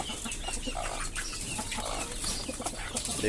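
Newly hatched chicks of native chickens peep and cheep over a noisy brooding pen, with bright chirps repeating steadily throughout at moderate distance and no talk.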